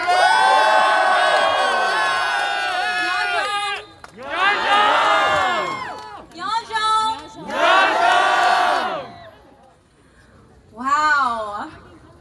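A large crowd at a parade for Sunisa Lee in Saint Paul shouts, whoops and cheers loudly in several surging waves with brief lulls between them.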